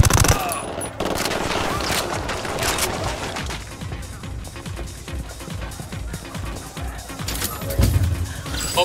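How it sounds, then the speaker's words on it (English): Sustained machine gun fire in the video game Ghost Recon Wildlands, with dense, loud bursts of rapid shots overlapping through the whole stretch, close and continuous with some heavier impacts near the end. "Opening fire on these fuckers."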